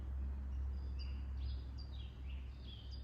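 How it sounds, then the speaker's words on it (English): Morning birds chirp in short, high bursts at an early hour, scattered across the clip at moderate distance over a steady low background rumble. "We got the beautiful morning birds."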